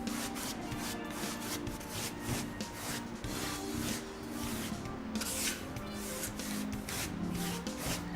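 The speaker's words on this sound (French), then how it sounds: "déposer grassement la cire à la brosse par petites surfaces irrégulières et d'essuyer immédiatement la cire avec l'éponge douce" Brush and sponge rub and scrub repeatedly as wax is brushed on and wiped off a Tradimur mineral wall coating, a close, continuous scratchy swishing in irregular strokes.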